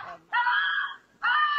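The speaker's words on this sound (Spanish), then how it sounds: "Fue el grito aterrador, ¿no?" A woman screams in terror, two long, loud, piercing cries with a short gap between them, close and sounding alone with no talk over them.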